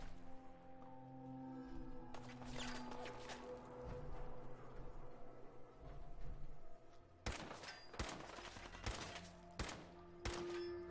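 Rapid bursts of Fallout 4 gunfire crack repeatedly, some in quick volleys, over a low droning background; sharp shots cluster toward the end.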